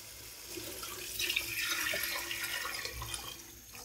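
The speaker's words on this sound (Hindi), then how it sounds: "हम इसमें पानी ऐड करेंगे।" Lukewarm water, about 1.5 litres, is poured into a pot of fried masala and softened tomatoes for restaurant-style dal fry, making a steady, faint splashing gush that swells briefly midway.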